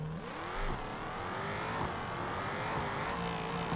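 An Audi RS6 with a 5-litre engine accelerates hard during a car long-jump contest, its engine pitch climbing steadily through the gears as a continuous loud roar.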